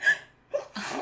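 A single close sneeze bursts out at the end, after a faint breathy intake and a short vocal sound.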